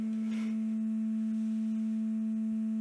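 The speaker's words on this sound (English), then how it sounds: "We've got our two sine waves ready to go." A steady, pure sine tone from speakers hums without a break, constant in pitch and loudness, during the building of an Ondes Martenot.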